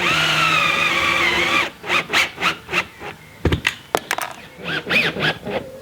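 A cordless drill whirs steadily for a couple of seconds driving self-tapping screws, then stops; a series of short bursts and clicks follow, with faint voices in the background.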